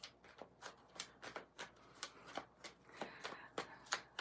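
Tarot cards shuffled by hand at close range, a steady rhythm of soft slapping cuts repeating about every third of a second, quiet and alone.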